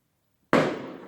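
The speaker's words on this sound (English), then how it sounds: "We're having fireworks outside." A single firework bursts outside on Christmas Eve, a sudden sharp bang that decays into a crackling rumble, heard alone after silence.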